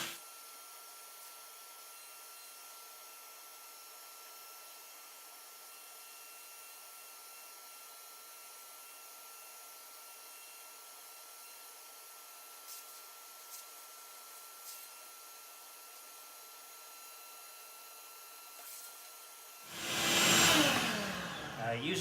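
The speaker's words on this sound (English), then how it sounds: "I went ahead and pulled most of the chaff out of the tray with this handy dandy shop vac" A shop vacuum runs with a steady, continuous hum while it draws chaff out of the drum of a Behmor 1600 Plus coffee roaster, with a few faint clicks along the way and a loud rough burst of rattling suction near the end.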